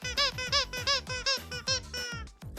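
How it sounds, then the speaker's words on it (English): A dog's squeaky rubber toy squeezed rapidly about a dozen times in an even rhythm, each squeak loud, close and high-pitched, ending in a longer drawn-out wheeze. "This is his little squeaky toy,"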